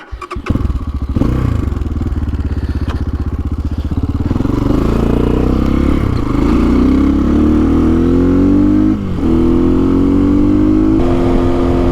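A Templar X motorcycle idles with a lumpy, rhythmic thump, then revs and pulls away, its engine note climbing through gears with brief dips at the shifts, loud and close throughout.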